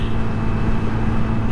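A Honda Navi motorbike cruising at half throttle around 40 mph, with a steady, droning engine hum and road rumble, close and constant with no change in pitch.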